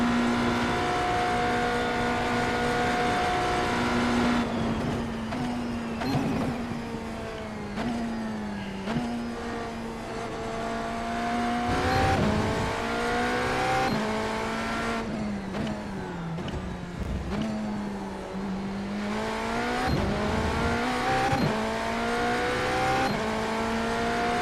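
GTP prototype race cars lapping Le Mans in a racing video game: a loud, steady engine whine that climbs and drops with shifts and braking, with occasional tyre squeal and other cars passing by.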